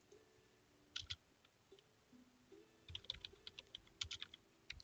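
Keys on a computer keyboard clatter in short irregular bursts of quick, crisp clicks, close and fairly quiet, with brief pauses between flurries of typing.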